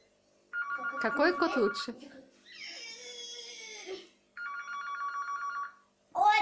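A telephone rings indoors in two bursts of steady electronic trilling, broken by a voice and other talk, with another voice starting at the end.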